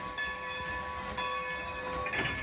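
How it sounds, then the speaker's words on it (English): Close beside a Strasburg Railroad steam engine coupling up to its train cars, a steady steam hiss and tonal hum run under a few metallic clanks and knocks. "you can stand this close to a steam engine and watch it couple up to the cars"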